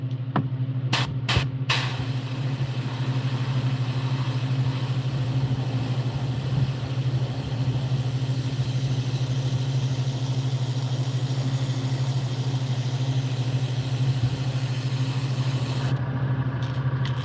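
An airbrush spraying paint over the face and body of a bluegill: a steady compressor hum with a continuous airy hiss, a few brief clicks at the start, and no talking.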